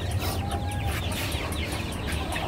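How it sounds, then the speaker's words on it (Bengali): Chicks on a modern farm with an incubator cheep and peep in a busy, overlapping chorus, with rapid high chirps over a low background rumble, close and continuous. "এই যে মুরগি বাচ্চা, আলহামদুলিল্লাহ"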